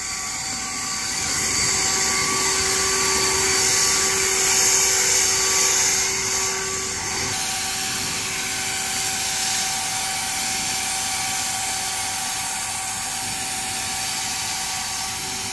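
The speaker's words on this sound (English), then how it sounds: "I don't know if y'all have ever used a leaf blower before, but it's so much fun." A leaf blower runs continuously at home, a loud steady whining roar with a sustained tonal hum, close by and unbroken for the whole stretch with no talking.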